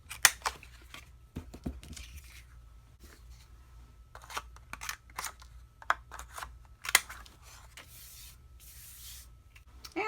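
Patterned paper and cardstock are trimmed to round their corners, giving a scattered run of crisp snips, clicks and rustling paper handling at close range, with quiet gaps between cuts.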